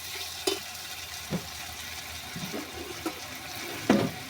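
Chicken kosha fries in an oily pan after a pinch of sugar is added, with a soft steady sizzle and a few scraping knocks of a spoon stirring the meat nearby.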